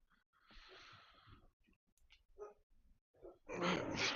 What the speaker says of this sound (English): y'all hear this fucking dog going crazy?